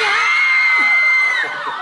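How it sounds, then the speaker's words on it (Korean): Loud crowd at a mock corporate shareholders' meeting cheering and whooping, a sustained roar of voices with a high shout riding on top, close and continuous. "자, 여러분 해영 씨에게 박수 한번 주시면서"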